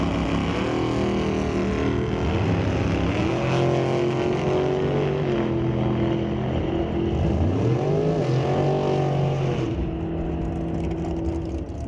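A Cameron dragster and a red 1967 Nova drag racing side by side at an NHRA national event, a loud sustained engine roar with rising and falling pitch as they accelerate down the strip, no voices.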